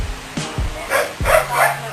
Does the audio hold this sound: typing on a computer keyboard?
no